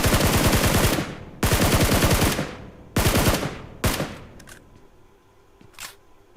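Gunfire in the mobile battle game BGMI: long sustained automatic bursts that cut off abruptly, followed by a shorter burst and a few fainter single shots trailing away, loud and close.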